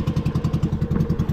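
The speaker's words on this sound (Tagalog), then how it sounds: "Supra engine." A Toyota Supra 2JZ engine running, with a close, even, rapid pulsing rumble at a steady idle, no talk.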